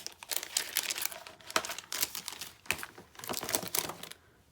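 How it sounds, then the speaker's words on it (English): Scissors snipping through paper for a junk journal, a close run of dry crisp cuts and crinkles with brief pauses, heard alone without talk. "So we're just going to try to cut her evenly."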